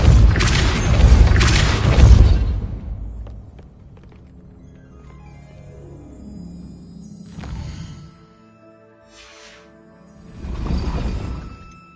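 The Depulso force spell cast in Hogwarts Legacy, a heavy booming blast with rumbling impact, followed by quieter thuds and a resonant tone that decays, then another dull boom near the end.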